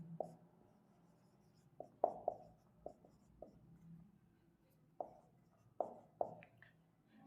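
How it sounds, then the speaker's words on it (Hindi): Chalk or marker writing on a board during a history lesson: a series of sharp taps and short scratchy strokes, irregularly spaced, close and fairly quiet, with no talking. "तो यहां लिखता हूं"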